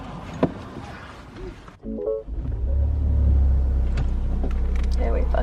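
A car engine starts and settles into a steady low idle rumble heard from inside the cabin, after some brief rustling and a short chime, with a voice speaking at the start.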